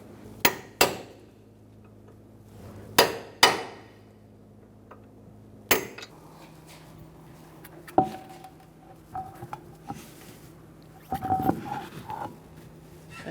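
Sharp metal hammer strikes stake an axle nut onto a 2014-2019 Kia Soul front axle: a few loud ringing blows, then lighter taps and clinks of tools nearby.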